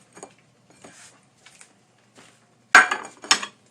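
Cups and dishes being washed: faint clinks and light knocks of crockery at first, then two louder, close clattering bursts of dishes near the end.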